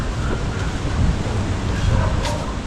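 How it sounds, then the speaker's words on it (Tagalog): Large sea waves rolling onto a seashore after heavy rain, a steady broadband wash of surf mixed with wind noise on the microphone, continuous and fairly loud throughout. "Laki ng alon."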